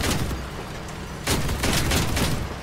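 Bursts of rapid gunfire from armored combat vehicles in Crossout, dense and loud, pausing briefly before a heavier volley resumes.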